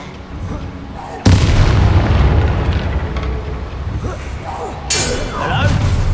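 A Bombarda blasting spell detonates in Hogwarts Legacy, a sudden loud booming explosion with a rumbling tail, followed a few seconds later by a second sharp crack and clattering debris.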